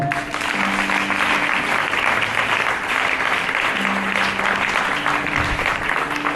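A church congregation applauds continuously and loudly, a dense steady wash of clapping from many hands throughout, with faint voices beneath.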